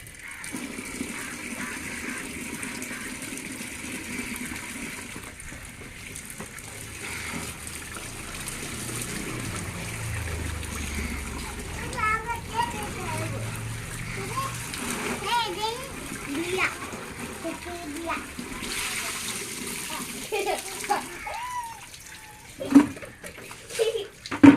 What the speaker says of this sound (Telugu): ఇది మామూలు వాటర్లో అయితే కడుగుతాము.